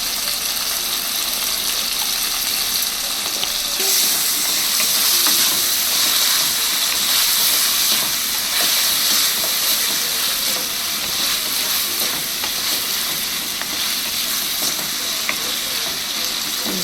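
Chicken frying in a pan with softened tomato and turmeric powder, a steady loud sizzle with occasional stirring scrapes running throughout, no voices.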